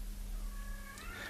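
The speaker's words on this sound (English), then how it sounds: "we can hear the pussycats" Cat meowing, a single rising and falling meow with clear tonal harmonics, fairly quiet and somewhat distant over a low steady hum, no talking.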